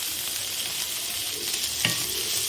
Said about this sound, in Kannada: ಈ ಕ್ಯಾಬೇಜ್ ಕೂಡ ಸ್ವಲ್ಪ ಬಾಡೋ ತನಕ ಫ್ರೈ ಮಾಡ್ಕೊಳ್ಳೋಣ